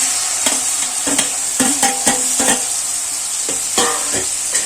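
Tomatoes tossed into a frying pan with drumsticks and stirred, a steady close sizzle broken by sharp scraping and clattering stirs, with no talk.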